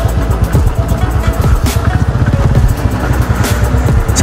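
A motorcycle rides along an empty road in Waling, Syangja, its engine droning loud and steady, with wind rumbling across the whole stretch.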